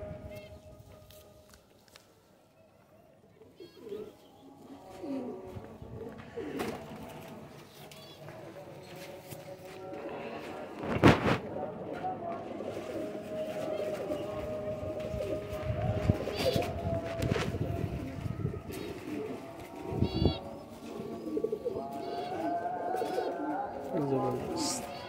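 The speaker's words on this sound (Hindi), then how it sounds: "सब जवान है माशाल्लाह, जोड़ों के लिए बिल्कुल तैयार कबूतर हैं दोस्तों ये" Young pigeons offered for sale at a pigeon breeder's, cooing repeatedly at close range through most of the stretch, mixed with rustling, wing flutters and someone talking over them.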